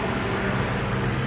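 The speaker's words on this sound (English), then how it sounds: "Please excuse the traffic noise out here." Steady broadband road rumble from cars passing outside on a residential street, a continuous low wash of traffic noise with no talking.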